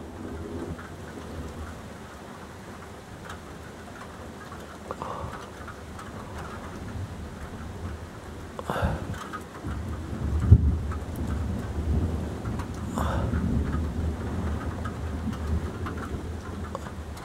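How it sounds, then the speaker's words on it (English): Steady rain pours down outdoors while low thunder rolls and rumbles through the second half, with no voices over the downpour. "Oh, rain."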